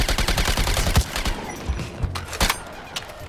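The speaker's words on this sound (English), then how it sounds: "Excuse my bullet spread, Deadshot." Gunfire in Suicide Squad: Kill the Justice League, a third-person shooter: rapid bursts of automatic fire with sharp cracks and a few heavier shots, close and loud, with no talk.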